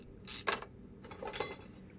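Two short bursts of ratcheting clicks as a crankshaft pulley is removed in Car Mechanic Simulator 2021, a mechanical tool-like rattle, fairly quiet and heard alone.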